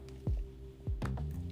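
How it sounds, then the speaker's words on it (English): A few soft, wet gulping swallows from a sip of water, three quick squishy gulps close to the mic in a quiet room, with no talking. "Let me take a sip of my water."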